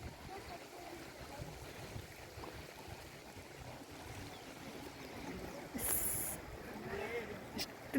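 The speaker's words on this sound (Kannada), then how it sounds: "ಅದ್ರ ಮೇಲಿಂದ ನೀರು ಹರಿದು ಬರುತ್ತೆ" Water pours over a Shiva linga on the banks of the full Malaprabha river, a steady broad rushing that holds for the whole stretch and swells briefly near the end. Faint voices may sit underneath.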